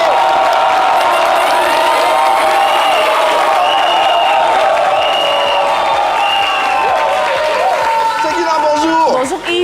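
A TV studio audience cheers, whoops and applauds loudly for a music guest introduced on a French midday variety show, a sustained crowd roar with whistling, while a host speaks over it near the end.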